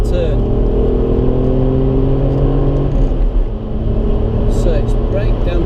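Alfa Romeo Brera on the Anglesey circuit, engine droning and building under acceleration while someone talks continuously over the close, steady in-car rumble.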